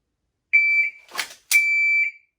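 A shot timer gives two loud, sustained electronic beeps during dry-fire draw practice, with a brief clatter of handling noise between them in an otherwise quiet space.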